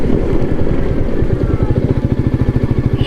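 A Royal Enfield Meteor 350 single-cylinder motorcycle on the move, its steady low thumping exhaust pulses loud and close throughout with some wind rush, no talking.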